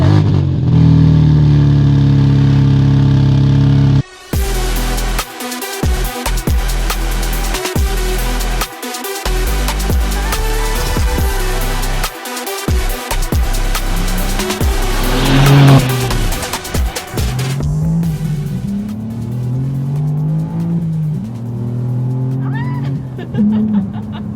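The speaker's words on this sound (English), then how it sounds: "I really like the backfires." A BMW 3.0 CSL race car revs and accelerates with sharp backfire pops, its engine roaring loudly throughout with brief cut-outs between bursts and some tire noise.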